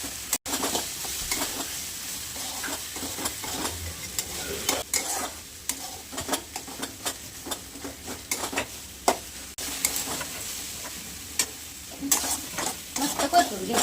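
Roasted brinjal being stir-fried in a pan for bharit, a continuous sizzle with repeated scraping and stirring strokes of a spatula against the pan, close and steady throughout.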